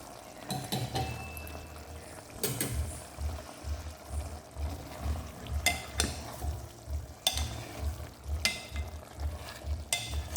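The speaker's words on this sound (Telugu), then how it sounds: "మనం చికెన్ ఒకసారి అయితే కలుపుకుందాం." Chicken cooks in a pot while a spoon stirs it with several scraping strokes and clanks against the metal, over a low rhythmic bubbling hum close by.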